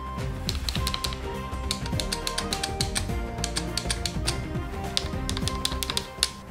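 Typing on a keyboard with hexagon-shaped keys, a steady rapid run of crisp clacking keystrokes heard up close with no talking.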